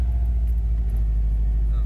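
Track day car engine just started, a loud low rumble idling steadily and close by, with a faint voice briefly in the background.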